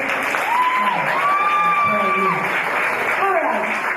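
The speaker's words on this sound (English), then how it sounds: "This one you all must clap, okay?" A press conference and launch party audience claps in a sustained, loud, even burst of applause, with a voice speaking over it.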